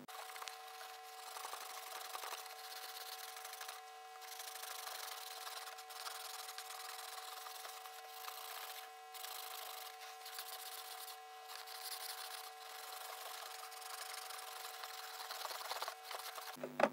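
Steel wool rubbing across a cured polyurethane resin casting drawn from a silicone mould gives a steady, close, scratchy hiss with rapid back-and-forth strokes, continuous for the whole stretch and alone without talk.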